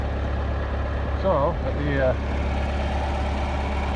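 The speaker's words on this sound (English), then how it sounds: "I didn't pull the tractor out far enough" A tractor engine idles steadily nearby on a cattle farm, a constant low rumble running throughout while someone speaks briefly over it.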